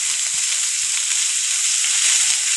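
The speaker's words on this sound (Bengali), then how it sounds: "পেঁয়াজ রসুনটা একটু ভাজা ভাজা করে শাকগুলো দিয়ে দেবো" Chopped onion and garlic fry loudly in hot oil, giving a dense, unbroken close-up sizzle with faint stirring knocks underneath.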